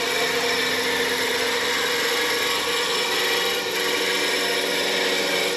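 A 3/4 inch roughing gouge cuts a spinning walnut pepper mill blank on a lathe, a continuous harsh scraping hiss over the motor's steady whine, close and loud with one brief dip.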